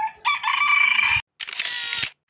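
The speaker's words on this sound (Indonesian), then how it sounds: "ini udah ada suaranya nih guys. Berarti ini ayam." A rooster crows loudly twice, a long raspy call and then a second shorter one, close by with no voices.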